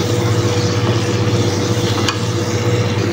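Garlic hitting a hot pan while cooking shrimp biryani, giving a steady close sizzle and frying hiss with a constant low hum and no talk.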